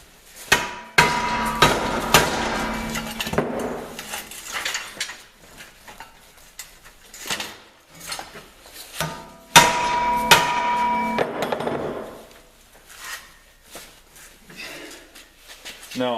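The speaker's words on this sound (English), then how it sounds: "I'm going to grab my dead blow hammer quick." A dead blow hammer strikes a metal cab mount for a first-gen Dodge in a shop. Several heavy blows come in short clusters, each with a dull thud and brief metallic ring, separated by quieter handling clatter.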